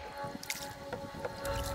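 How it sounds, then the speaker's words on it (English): A canoe paddled quickly on the shallow Elk River gives faint, soft strokes and watery squishes and drips, close but quiet, with a low rush building toward the end. "Right here, I'm paddling so fast it sounds like an airplane."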